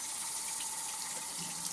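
Running tap water rinsing a dishwasher filter, a close, steady hiss and splash with no break.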